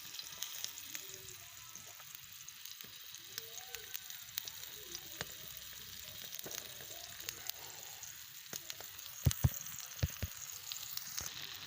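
Round tomato slices fry in ghee on a hot tawa, giving a steady, close sizzle with scattered crackles and pops that grow sharper toward the end.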